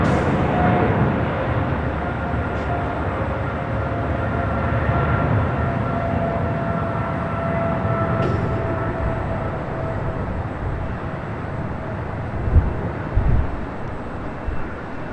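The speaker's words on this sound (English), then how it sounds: "We do have a takeoff happening on the 25 left." A cargo airplane taking off from runway 25 left at LAX, a loud, steady jet engine roar heard from a distance that holds throughout, with a few faint clicks near the end.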